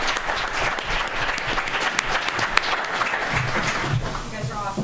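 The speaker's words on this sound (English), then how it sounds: "Can we get a round of applause for our panelists and for Connor," Sustained audience applause for panelists and a moderator at a Small Business Week panel event, dense steady clapping filling the room, with a voice speaking over it.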